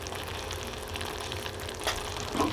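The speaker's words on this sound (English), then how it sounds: "We're going to add the pasta." Penne dropped into thickened ragu sauce in a hot pan sets off a steady sizzle and frying hiss, with a couple of soft stirring scrapes toward the end.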